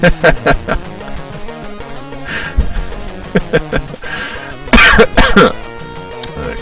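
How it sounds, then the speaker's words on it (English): Several throat-clearing coughs close to a microphone, loud and abrupt, with short gaps between them and a heavier burst near the end. "Coughing in the mic."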